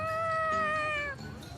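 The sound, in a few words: cat meowing in Tales of Xillia 2 video game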